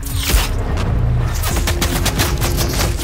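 Rapid gunfire bursts crackle in a laptop video game match, with repeated sharp shots and booms layered over busy game noise, several reports clustering near the start and again after the midpoint.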